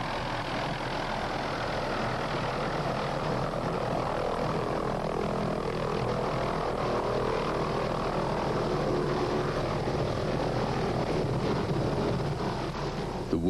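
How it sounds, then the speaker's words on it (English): A Hughes 500 medical evacuation helicopter arrives through early morning mist, its rotor and engine drone steady and continuous, moderately loud throughout with no talk over it. "At last, the medical evacuation helicopter arrives through the early morning mist."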